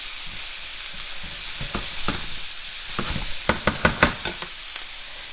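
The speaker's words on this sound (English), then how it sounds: "I'm going to go ahead and let my onions cook down." Onions cook down in a pan with a soft, steady sizzle, broken by a few sharp knocks and scrapes from stirring near the end.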